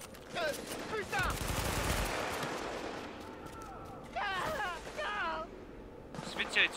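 Bursts of automatic gunfire during a Dark Zone firefight in The Division beta, fairly quiet and mixed, with rapid rattling volleys, in-game chatter and voices over the shooting.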